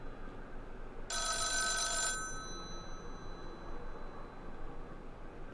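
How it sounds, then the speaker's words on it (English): A telephone bell rings in one loud, bright burst lasting about a second inside The Town of Light, a video game, then fades and leaves a faint steady hiss. "If there's a hell, there'd be a ringing fucking telephone I can't pick up"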